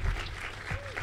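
An audience at a university green building ribbon-cutting ceremony claps for a trustee in the crowd, a steady round of applause throughout with some low rumble and a faint voice.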